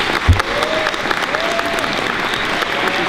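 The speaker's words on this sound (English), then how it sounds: "Good round of applause for her." A dense wash of clapping from a sizable crowd fills the space continuously, steady and fairly loud, with a brief thump early on.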